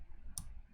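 A single short mouse click, faint and close, sounds as the render button is pressed in KeyShot, with low room hum around it.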